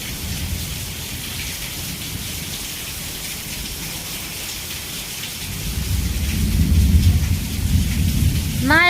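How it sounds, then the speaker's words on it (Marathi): Heavy rain pours steadily while thunder rumbles, swelling into a deep, loud roll in the latter half. No voices are heard over the storm. "म्हणता म्हणता यंदा यरवाळीत पाऊस चालू झालाय"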